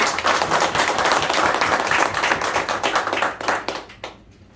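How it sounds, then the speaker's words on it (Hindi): A crowd claps loudly and briskly for a staff member at a gathering, sustained clapping that thins and fades out in the last second. "इसके लिए बहुत सारी तालियां।"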